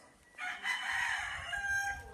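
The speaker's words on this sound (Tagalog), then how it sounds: "Ayan o, daming manok." One long rooster crow rings out clearly across a chicken farm in Balungao, Pangasinan, starting just after the opening and running almost to the end, with chickens faintly behind it.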